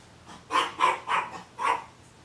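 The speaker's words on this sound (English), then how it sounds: "My dog will also be in this series, or the voice of my dog, Weenie." A dog barks four times in a quick irregular series, moderately close and clear against a quiet indoor background.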